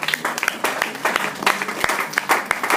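A church congregation claps along in worship, steady rhythmic applause filling the room with sharp, repeated hand strikes at close range.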